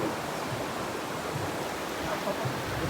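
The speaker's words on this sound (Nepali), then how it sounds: "खोला चाहिँ ठुलो रहेछ यस्तै हो खोलाहरू यसरी चलेर छन्" A large river rushing in a steady, dense roar, loud and close with no letup and no voices heard.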